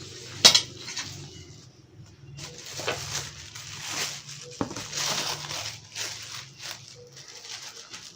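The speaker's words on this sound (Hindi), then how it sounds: "अब स्लाइस काट लेते हैं।" A knife cuts through namkeen bread slices on a surface, giving a sharp clink, then several soft crunching, scraping strokes at close range, quiet and without speech.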